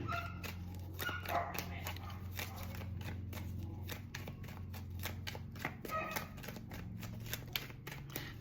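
Tarot cards riffled and shuffled in a steady run of soft, close flicks and snaps, with faint background hum and no talking.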